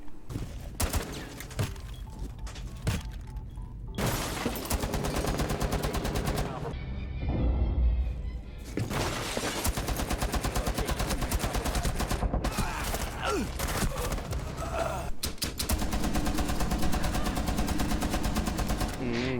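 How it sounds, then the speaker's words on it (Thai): Tachanka's light machine gun in Rainbow Six Siege fires in loud, dense bursts of rapid automatic shots, broken by a few short pauses and layered with other game sounds across the whole stretch. "ไลท์แมชชีนกันนับ LMG ปืนนี้เนี่ยเป็นปืนที่เขาเรียกกันว่าเป็นปืนจานข้าวหมานะครับ"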